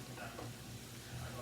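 Ground meat browning in a frying pan for taco egg rolls, a faint, steady sizzle with soft stirring throughout.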